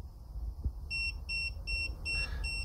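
Tilt alarm of an Autool X90 GPS slope meter for off-roading, giving four short, bright electronic beeps in a steady rhythm, close and clear over low background rumble, with a brief bump before it starts.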